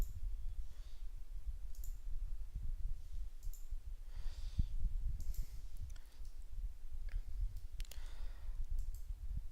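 Computer mouse clicks while working in automotive design and validation software, several faint, sharp clicks spaced irregularly over a low, steady background hum.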